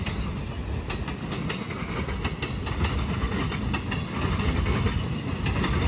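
CN freight train with locomotives 2655 and 2312 and tank cars rolling through Marinette, Wisconsin, a steady nearby rumble with rhythmic clickety-clack of wheels over rail joints throughout.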